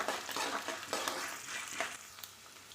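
Garlic fries in hot oil while being stirred, a continuous close crackling sizzle with soft scraping of a utensil in the pan, fading slightly toward the end, without speech.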